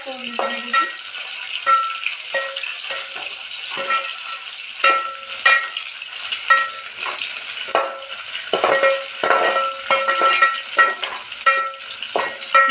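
Onions frying in a pan for egg biryani, with a steady sizzle and repeated scrapes and clinks of a spoon stirring against the metal, close and continuous throughout.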